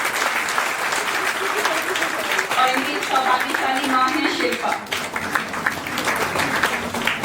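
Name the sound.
audience applause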